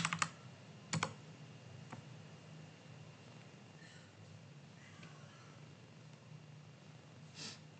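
Keys struck on a computer keyboard while entering a database query during a database exam, a few sharp clicks at the start then sparse faint taps over a steady low room hum.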